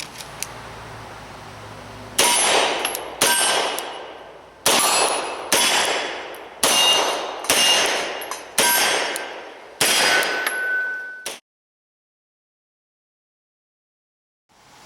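Beretta M9 pistol fired at targets ten yards away, about eight sharp loud reports in an uneven sequence, each with a ringing metallic tail, followed by silence.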